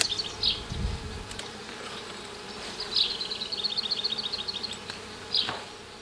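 Honey bees buzz around an alpine beehive as its upper box is lifted off during spring inspection, a steady close hum with brief louder swells as individual bees fly near, no voices.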